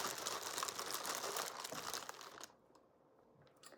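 Packaging of a car charger being unwrapped up close, loud crinkling and rustling of wrapper for a couple of seconds before it fades to a quiet pause with a faint rustle at the end.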